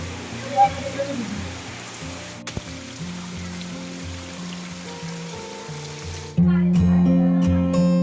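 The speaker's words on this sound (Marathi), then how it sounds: "जोराचा पाऊस आलेला आहे" Heavy monsoon rain falls in rural Konkan during a Gauri arrival procession, a steady broadband wash of rain with some low tonal sounds beneath it, which grows louder and denser in the final seconds.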